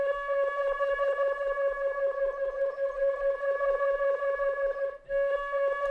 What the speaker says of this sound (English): I have this flute recording.